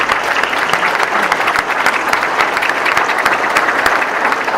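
A high school senior awards ceremony audience breaks into steady, dense applause, a continuous patter of many hands clapping throughout.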